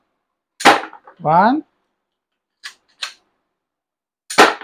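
A Beretta K117D pistol fired at a cardboard target, giving two sharp, loud bangs about three seconds apart. Between them come a spoken count and a pair of fainter mechanical clicks.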